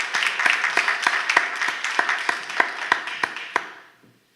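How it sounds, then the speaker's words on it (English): Audience clapping at a small business month launch event, a burst of steady close applause with sharp individual claps that tapers off and fades out over the last half second. "Let's give them a round of applause."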